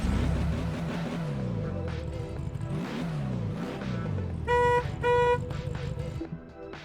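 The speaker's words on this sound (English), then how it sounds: "I'll also get inside here to honk the horn and rev it up so you can hear what it sounds like" A Volkswagen Beetle in Test Drive Unlimited 2 revs its engine in rising, repeated sweeps, then honks its horn in two short blasts, with a voice talking over it.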